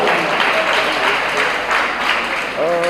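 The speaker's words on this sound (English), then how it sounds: "A big round of applause for her." Audience applause for a debate speaker at a schools debate championship final, steady and dense throughout, with a voice starting to talk near the end.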